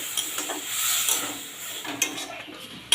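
Coriander powder, cumin powder and kasuri methi stir-fried in a pan with a little water for an omelette curry, giving a soft continuous sizzle with light scraping and clinks of a spatula, close up.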